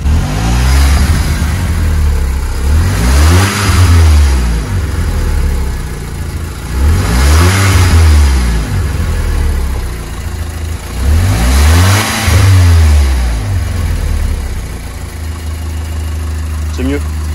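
An engine idles steadily and is given three light throttle blips, each swelling into a short rising rev before dropping back, evenly spaced and close by.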